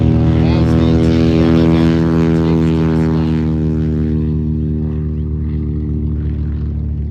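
A propeller airplane with a Rolls-Royce Merlin engine passes at an airshow in Hillsboro, Oregon, a loud, close, deep droning roar that slowly fades as it moves away.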